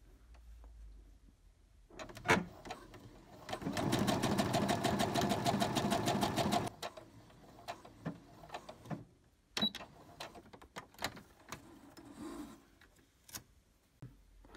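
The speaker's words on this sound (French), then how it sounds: "Je l'ai fait à la machine à coudre" A sewing machine stitches closed the two ends of a ribbing band for a neckline: a short start, then a fast, loud mechanical rattle for about three seconds, followed by quieter handling clicks and knocks.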